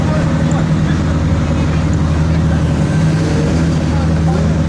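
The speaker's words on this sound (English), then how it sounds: "The world's greatest supercar traffic jam." Supercars sit idling and creeping in a traffic jam, a loud, continuous low engine rumble with a steady hum and no clear breaks.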